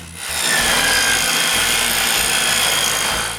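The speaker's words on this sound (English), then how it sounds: "Then I cut two 15-degree strips, which are the mating rails" A power saw rips through wood, cutting 15-degree mating rail strips for a cottage window, a loud, close, sustained whining cut lasting about three seconds with no speech.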